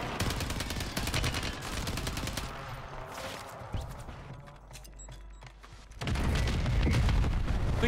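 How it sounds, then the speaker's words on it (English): Rapid bursts of gunfire in Call of Duty Warzone, with shots fired through walls. Dense rattling volleys come loud and close, thin out to a lull in the middle, then a heavy sustained barrage returns. "Shooting through the walls!"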